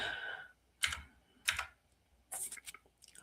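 Bursts of typing on a sideways-turned computer keyboard, a few short clusters of key clicks separated by brief pauses, close and moderately quiet.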